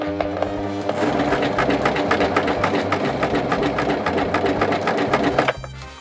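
A Bernette B42 Couturama 3000 coverstitch machine stitches fabric with a fast, steady mechanical whir and regular needle clatter, running loud and close for about five seconds before stopping abruptly.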